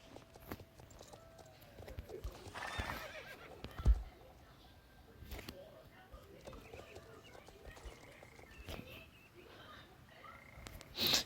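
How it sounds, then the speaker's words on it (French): In a video game, a horse whinnies and its hooves clip-clop on the ground, faint and intermittent, with a few sharp clicks and brief bursts, while a person talks over parts of it. "Le cheval hennit gaiement."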